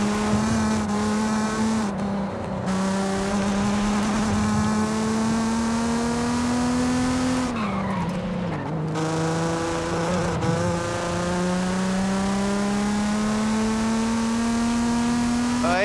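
A Mazda Miata in a racing video game revs through spooky woods at the base of a volcano, its engine holding a steady loud drone with pitch dips at gear changes, plus brief tire noise, with no talk.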